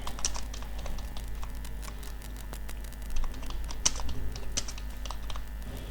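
Steady clatter of keys as a name is typed into an online admission prospectus form on a computer keyboard, quick irregular taps over a constant low electrical hum, no voices.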